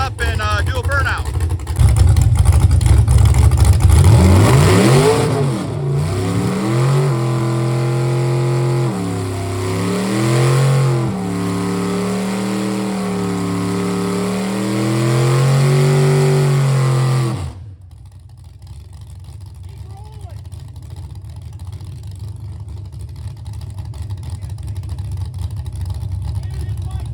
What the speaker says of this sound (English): we'll get it backed up and positioned and warmed up and do a burnout